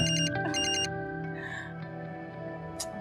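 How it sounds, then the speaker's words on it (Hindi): A mobile phone rings with a repeating electronic tone in short bursts, fairly faint indoors, then falls quiet amid light room noise. "कब से फोन बज रहा है तेरा?"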